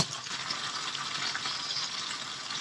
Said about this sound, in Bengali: উল্টিয়ে এপিঠ ওপিঠ সুন্দরভাবে ভেজে নিতে হবে।